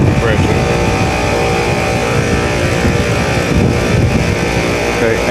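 Indoor blower and second compressor of an air-conditioning system under maintenance run steadily, a loud continuous mechanical drone throughout with no break.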